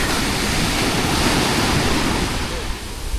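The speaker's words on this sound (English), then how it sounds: "As you can see, it's right on the beach." Ocean surf on a Hoi An beach beside beachfront cafe bars, a steady loud wash of waves with wind rumbling across the microphone throughout.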